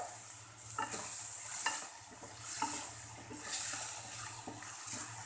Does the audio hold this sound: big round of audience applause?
no